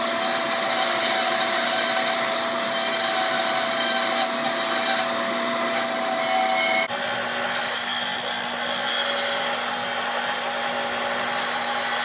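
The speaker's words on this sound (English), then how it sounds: "We'll do that on the bandsaw." Continuous bandsaw cut through wood while building a crosscut sled, a steady close buzzing whine with a rasping edge, shifting pitch partway through as the blade works the workpiece, no talk.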